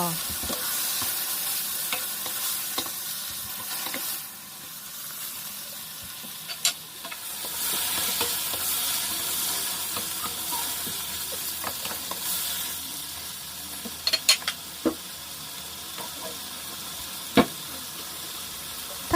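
Pork belly and shrimp paste being stir-fried in a pan, a close, busy sizzle with repeated spatula scrapes and sharp metallic knocks against the pan, the frying fading briefly midway before surging back.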